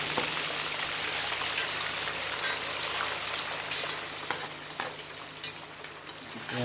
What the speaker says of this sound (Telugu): ఆయిల్ బాగా మగ్గాలి దాంట్లో ఆనియన్స్ బాగా మగ్గాలా గోల్డెన్ కలర్ వచ్చే వరకు మనం అట్లా తిప్పుతూనే ఉండాలి